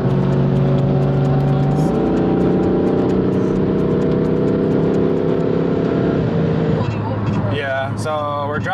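A car on a rally drive gives a loud, steady engine drone with shifting tones, rising once, and people talk over it near the end.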